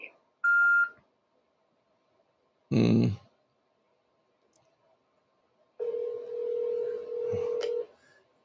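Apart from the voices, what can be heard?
telephone dialing and ringing on a phone line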